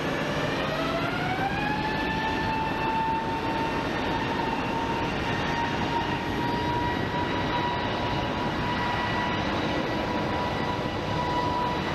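An airliner taking off from a runway at Phoenix Sky Harbor airport roars steadily and loudly, its engine whine rising in pitch and then holding high over a broad continuous rumble.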